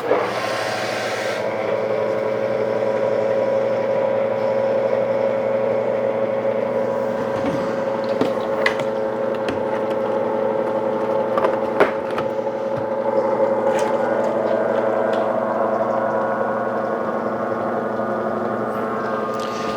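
Pressure washer motor pumping antifreeze through the system and out the gun during winterization, a steady humming drone running continuously for twenty seconds with scattered clicks and clunks, no talking.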